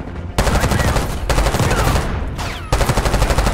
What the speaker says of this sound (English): It's nice to see my friend is actually shooting back for once.